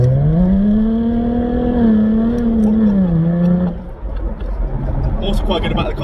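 A Jaguar F-Type 400 Sport engine droning and shifting pitch as it drives with the roof down, then dropping to a lower rumble; a voice talks over it.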